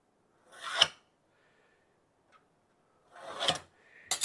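Steel scribe drawn across stainless steel coated with DYKEM layout ink, two short scratchy rasping strokes with a quiet gap between and a third starting at the end, close and clear with no talking.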